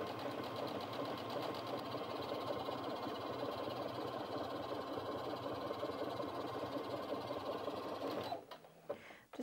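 A Brother Innov-is F420 sewing machine runs a steady, even stitching drone on stitch number 5 for several seconds, then stops abruptly near the end, leaving a few faint clicks.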